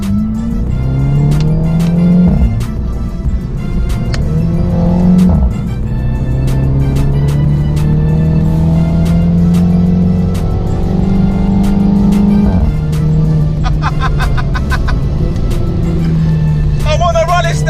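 A Mini Cooper S Convertible with a Remus catback exhaust and DCT gearbox drives hard, the engine rising through repeated revving pulls with pops and crackles between shifts, loud and close throughout.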